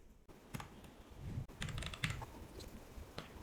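Fingers typing a project name on a computer keyboard, a close run of irregular clacking keystrokes with brief pauses, no voice over it.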